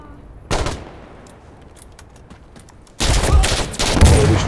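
Gunfire exchange in the tactical shooter Insurgency Sandstorm: a sharp burst of shots, a lull with scattered faint pops, then sustained loud firing near the end.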